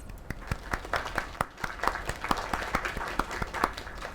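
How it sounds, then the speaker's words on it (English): A crowd claps and applauds in the Lake video game. The claps come as a steady, moderately loud patter that rises slightly toward the end, with no speech. "Another round of applause."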